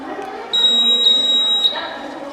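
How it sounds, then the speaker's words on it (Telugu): A student's road accident prevention science project sounds its electronic buzzer, a steady high-pitched tone lasting about a second over background chatter at a school science fair. "ఇక్కడ లైట్ వెలిగి బజర్ మోగుతుంది"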